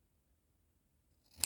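Scissors make one short, crisp snip through paper while cutting a tag shape for a craft project, coming at the very end after near silence.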